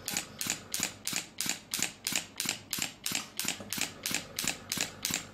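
SW9 shockwave therapy device firing pulses at steady, even intervals, about three per second, each a sharp close mechanical snap repeating through the whole clip.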